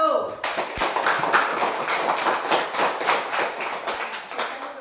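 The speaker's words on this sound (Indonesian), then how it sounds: "Mari kita memberikan aplaus kepada kelompok 1" A class applauds group 1 with a broad, sustained burst of many hands clapping, dense and fairly loud, holding steady for several seconds after a brief spoken moment at the start.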